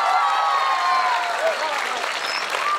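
Audience applause at an Islamic religious gathering honoring santri, a steady wash of clapping with whistling or cheering voices riding over it.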